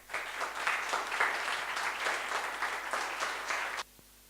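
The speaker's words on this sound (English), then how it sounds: "Let me ask an extra round of applause for these guys that really worked a lot." An audience at a final projects presentation applauds warmly, dense and steady clapping filling the room for several seconds before stopping abruptly.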